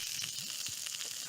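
Vegetables (mushrooms, onions and cabbage) with a little added oil fry in a pan on a cast iron Morso wood stove, giving a steady, soft sizzle with faint scraping, quiet and alone.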